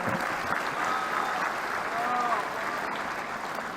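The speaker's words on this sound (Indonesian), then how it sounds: "Kita tepuk tangan untuk Pak Joko." A large audience at a presidential state address in Indonesia's MPR annual session applauds steadily for a farmer, a dense, even wash of clapping with a few faint whistles and voices mixed in.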